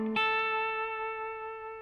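A short blues lick on electric guitar: a quick attack, then one bent note ringing out and slowly fading, close and alone, with effects coloring the tone.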